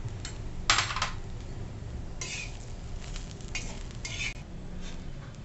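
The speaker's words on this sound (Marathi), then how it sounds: "आता आपण यात आलं आणि लसूण हे पण परतवून घेऊ।" Ginger and garlic are sautéed with dry coconut in a pan, heard as bursts of spatula scraping and metallic clinks over a faint, low sizzle.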